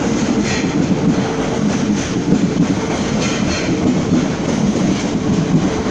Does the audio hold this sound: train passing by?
yes